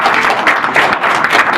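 An audience claps and applauds in a dense, even burst that lasts the whole moment without a break.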